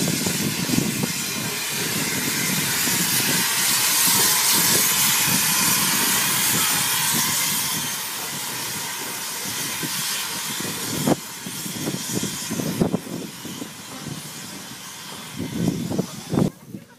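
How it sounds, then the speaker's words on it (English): Loud, steady hissing steam with a rumbling engine for several seconds, then quieter rhythmic clanks and chuffs as a steam train draws in nearby on the Caledonian Railway. "Well, here's the train."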